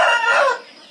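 Free-range village chickens, with a loud, close rooster crow filling the first half-second and then tailing off into quiet.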